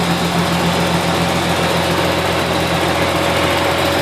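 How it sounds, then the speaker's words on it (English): A 25-year-old Nissan Skyline R31 with its RB30E straight-six engine idles steadily at close range, a loud, even hum with a faint whine and no other sounds. "So this is the engine start for my 25-year-old Nissan Skyline RB30E engine, made Japan"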